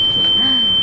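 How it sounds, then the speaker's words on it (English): A steady, high electronic warning tone sounds without a break as a sailboat's engine shuts off at sea during an ocean crossing. "that is the sound of the engine turning off."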